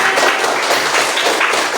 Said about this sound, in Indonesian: Tepuk tangannya untuk Kiran.